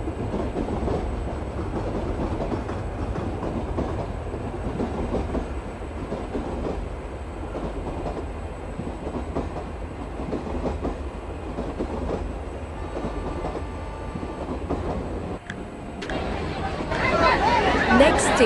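Mumbai local commuter train on the Kalyan to Dadar line running between stations, a steady rumbling roar with rail noise throughout and a brighter burst of clatter near the end, while people talk in the carriage.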